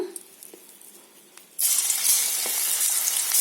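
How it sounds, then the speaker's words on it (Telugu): Stiff flour dough drops into boiling oil and bursts into a loud, close, hissing sizzle that continues steadily after a quieter moment of faint kitchen clinks. "ఆయిల్ మరిగింది, వేసేసుకుందాం."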